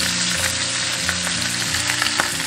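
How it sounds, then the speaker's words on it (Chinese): Chopped aromatics stir-fry alongside pan-fried yellow catfish, making a strong, continuous sizzle broken by a few light stirring clicks, close and loud with no voices. "2面煎好过后，加入料头炒香。"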